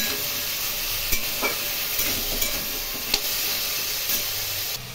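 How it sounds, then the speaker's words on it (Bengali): Potatoes sizzle steadily in oil in a pan for a potato curry, with several soft scraping stirs of a spatula breaking through the close, continuous frying hiss. "এই আলুগুলো একটু ভালো করে ভেজে নেব।"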